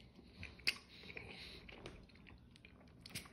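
Quiet, close chewing of a chewy peanut butter candy, with soft sticky squishes and a sharp bite click near the start, no talking.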